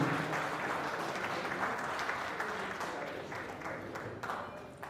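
A crowd at a film audio launch event applauds steadily, the dense clapping slowly fading over several seconds.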